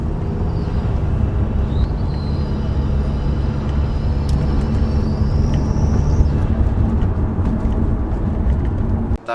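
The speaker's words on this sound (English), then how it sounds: "That whistle is more due to my turbo muffler delete" A 2008-era-style Audi B8 A4 with its turbo muffler deleted accelerates, a steady loud engine drone filling the cabin while a thin rising turbo whistle sweeps upward over it.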